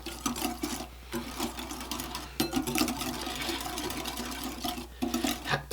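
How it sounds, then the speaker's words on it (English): A whisk beats salad dressing seasoned with salt and black pepper for macaroni salad. It makes a steady, close scraping and sloshing in quick bursts, with brief pauses, and no one talks. "We're just going to whisk this together here quick."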